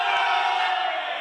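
Crowd at a BCQ gymnastics meet cheering for the team from Kuwait, a steady roar of mixed voices and shouts filling the hall for the whole moment.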